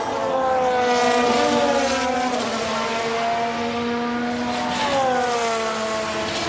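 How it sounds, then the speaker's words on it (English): Formula One car engines roar in the F1 Manager 2022 game during a race at Jeddah, a loud sustained high-revving whine with rising and falling pitch as cars pass, steady and unbroken throughout. "they just use the engine sounds of the real F1 cars, of the real broadcasts"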